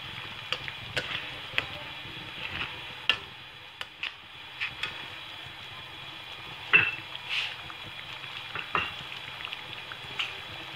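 Whole red chillies frying in hot oil for a Balochi chicken karahi, a soft steady sizzle punctuated by irregular clicks and pops of spattering oil and a few clinks of utensils against the pot.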